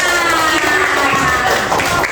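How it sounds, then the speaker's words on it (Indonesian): An elementary classroom of children claps hands together in a dense, loud burst of applause mixed with excited young voices, lasting a couple of seconds. "Oke, tepuk tangan untuk kita semua."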